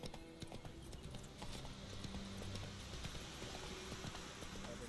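The horse Roach trots in The Witcher 3, its hooves giving a faint, steady clip-clop that runs through the whole stretch.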